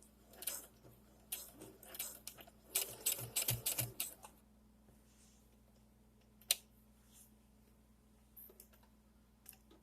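A home sewing machine stitches back and forth on ripped ribbing, sounding as a burst of quick mechanical clatter, then quieter ticks and isolated clicks close by.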